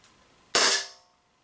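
An Umarex Walther PPQ M2 air pistol fires once at a hanging tin can: one sharp, close crack with a short ringing decay, then silence.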